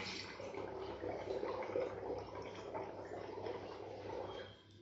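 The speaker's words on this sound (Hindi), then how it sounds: "पानी के अंदर बबल बनाएंगे" Steady bubbling gurgles as breath is blown through a straw into a bottle of water during a breathing exercise, close and fairly quiet, continuing evenly for several seconds and then tapering off.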